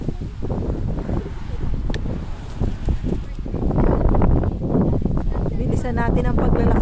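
Strong wind buffets the microphone in a continuous rumbling roar, growing louder, with a person talking underneath, outdoors in rainy, stormy weather in Canada.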